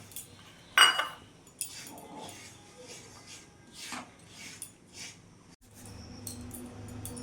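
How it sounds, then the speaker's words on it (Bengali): Semolina is stirred and roasted in ghee in a pan for sweet suji halwa, giving quiet intermittent scrapes, rubs and light utensil clinks with pauses between strokes. "ওই ঘিয়ের মধ্যে আমি সুজিটা দিয়ে দেবো। সুজিটা এখন ভাজা ভাজা করে দেবো।"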